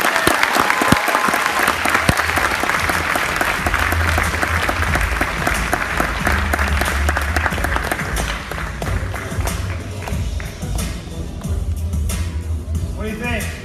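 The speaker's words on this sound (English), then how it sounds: "Let's give a round of applause." Loud, continuous applause and crowd noise from an audience at a youth pitch competition, steady for the whole stretch and slowly thinning toward the end, with voices murmuring underneath.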